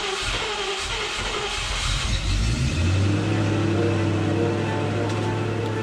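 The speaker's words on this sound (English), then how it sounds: "The engine always has a rough start whenever first firing up." A Range Rover Classic engine turns over roughly, then settles into a steady, low, droning idle while warming up, heard close and loud on a cold start.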